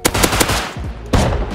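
Loud close bursts of automatic gunfire in Rust, rapid rattling shots in two clusters separated by a short pause, with no voices over them.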